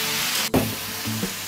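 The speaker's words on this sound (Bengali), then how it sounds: "এইভাবে আমি কমপক্ষে 3 থেকে 4 মিনিট সবজিগুলো ভেজে নেব।" Mixed vegetables frying in a pan, with a steady loud sizzle broken by a brief clatter as they are stirred.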